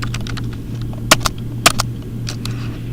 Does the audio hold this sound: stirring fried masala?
no